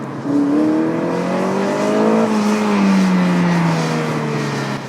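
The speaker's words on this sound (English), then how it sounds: "this is a peppy little engine, and it loves to rev as well." Toyota RAV4 with a VVTi engine revs hard and close, pitch climbing, holding, then easing down in a loud, smooth drone.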